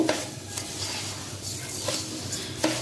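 Rice fries in a pot for porda biryani: a continuous close sizzle with intermittent scraping strokes of a spoon stirring the grains against the metal.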